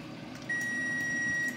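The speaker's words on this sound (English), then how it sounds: "there's our timer, so our broccoli should be perfect" A kitchen cooking timer sounds a steady, sustained electronic beep tone starting partway in and holding to the end, moderately loud over quiet room noise, with no speech.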